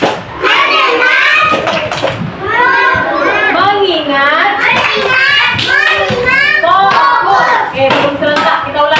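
Children in a first-grade class in Indonesia chant "Tepuk konsentrasi" loudly in unison while clapping hands in a steady rhythm, voices and claps mixed together close by.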